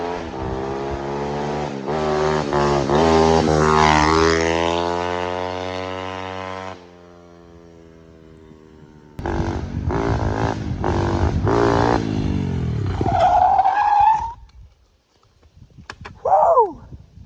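A 50cc mini bike engine screams as it revs and accelerates hard, its pitch climbing and falling through loud sustained pulls, dropping to a low idle, then roaring again before cutting off, with a brief shout near the end.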